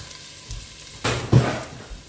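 Lemongrass, kaffir lime leaf and ginger hit a hot pan for a Thai red vegetable curry, bursting into a loud sizzle with a sharp surge partway through, then a steady frying hiss.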